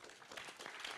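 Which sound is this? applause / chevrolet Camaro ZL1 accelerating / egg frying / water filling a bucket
applause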